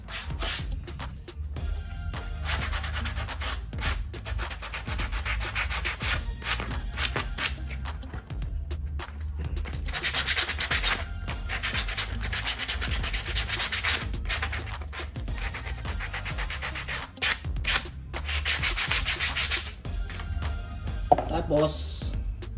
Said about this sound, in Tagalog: pasahan lang natin siya ng liha